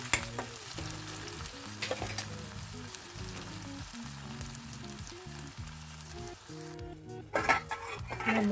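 Sliced onions and green chillies fry in a pan for a ridge gourd curry, with a steady close sizzle broken by repeated stirring scrapes of a spoon against the pan, no voices.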